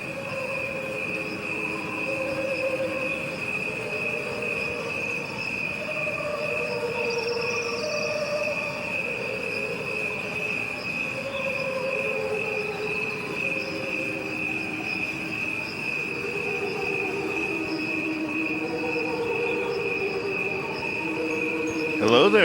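Steady chorus of crickets chirping in a continuous pulsing drone, with layered slowed-down tones underneath, no voices or instruments, holding at an even level throughout.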